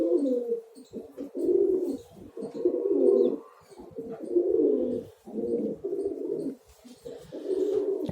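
Pigeons in a loft coo close by in repeated soft, throaty bursts, with short pauses between calls and faint chirps behind them.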